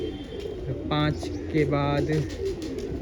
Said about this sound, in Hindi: तो ये कबूतर हमने बंद कर दिए हैं अपने नए वाले लॉफ्ट में